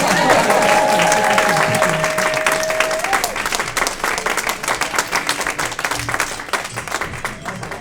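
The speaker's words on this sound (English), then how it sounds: "Keep clapping, you guys." Comedy club audience at the Lincoln Lodge in Chicago applauding steadily, a dense loud wash of clapping that gradually thins and softens, with a brief whistle-like tone early on.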